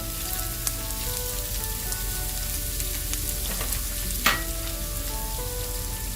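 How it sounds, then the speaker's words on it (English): Onions frying in a pan for a chicken dum biryani, a steady dense sizzle running throughout with a few brief clicks and one sharper crackle near the end, no voices. "we're going to add the onions and start cooking it down"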